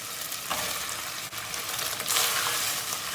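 Chopped onion hits a pan of cooked meat and its rendered fat, a loud close sizzle with stirring scrapes that swells further in the second half, with no talk.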